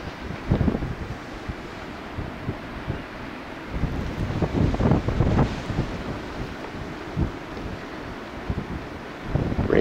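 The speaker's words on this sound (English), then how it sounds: "So this, ladies and gentlemen, is the blizzard of 2013, or commonly known as Nemo." Blizzard winds of the 2013 storm Nemo in Derry, New Hampshire, with sustained winds around 30 mph, roar and buffet the microphone in uneven gusts, loud and close, with no voices.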